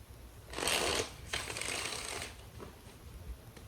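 Tarot cards being shuffled by hand, two quick riffling bursts close up, the second longer, followed by faint handling rustles.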